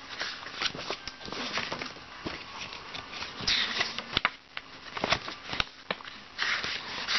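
Glossy pages of a CD booklet from a flumpool release are flipped one after another, giving soft papery swishes and crisp flicks at close range, with no talking.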